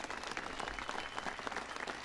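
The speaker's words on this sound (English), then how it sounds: "Give Bruce a big round of applause." An indoor audience at a White House ceremony honoring the San Francisco Giants gives a steady round of applause, dense clapping sustained throughout, moderately loud with no speech over it.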